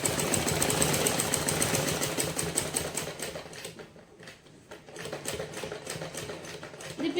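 A sewing machine stitches the deep neckline of a blouse, running in a fast, steady mechanical rattle close to the microphone with a short slowdown partway through.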